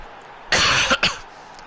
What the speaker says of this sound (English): Sorry about the cough, it's just not going.